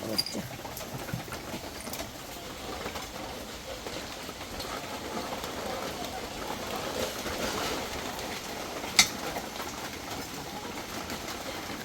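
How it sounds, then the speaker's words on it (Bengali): Heavy rain falling steadily, a soft, even wash of hiss that continues throughout at low level, with a single brief sharp knock near the end. "এত পরিমাণে বৃষ্টি নামছে"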